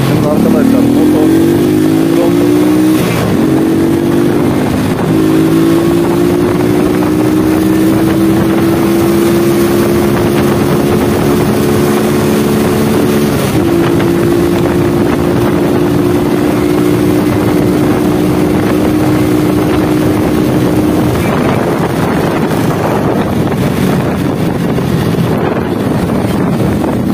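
A 110cc cub-style motorcycle engine drones steadily while riding around Alanya, its pitch rising as it revs up, shifting and settling again, with heavy wind buffeting the microphone and someone talking over it throughout.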